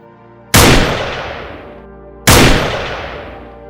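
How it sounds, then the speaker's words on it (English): Two loud gunshots ring out during a wild boar hunt, each a sharp crack followed by a long decaying echo, spaced under two seconds apart with nothing else heard. "The sound of gunfire echoed, and one by one, the wild boars were destroyed."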